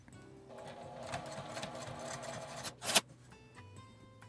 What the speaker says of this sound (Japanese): この上のところに5ミリくらいの縫い代で縫い付けます